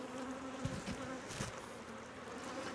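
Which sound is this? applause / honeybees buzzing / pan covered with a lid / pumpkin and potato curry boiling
honeybees buzzing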